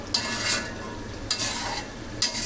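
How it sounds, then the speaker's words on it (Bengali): Potatoes with meat and spices stir-frying uncovered in a pan for biryani, with a continuous sizzle and three sharp, close scraping strokes of the spoon at roughly one-second intervals. "এখন আমি আলুটা দেওয়ার পর আরও দু তিন মিনিট একটু কষিয়ে নেব ঢাকনা না দিয়ে"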